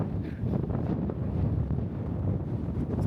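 Strong wind gusts across an open Arizona desert, roaring and buffeting the microphone in a steady, loud rush with no speech.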